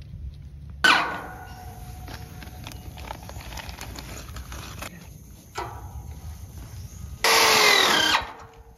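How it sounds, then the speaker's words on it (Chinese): A power drill drives screws into connecting plates for a wooden cabin build. There is a long whirring burst, a short one, and a final loud burst, with quieter gaps between them. "开始打螺丝。"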